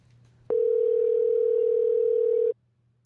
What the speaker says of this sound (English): Astro Kid is ringing.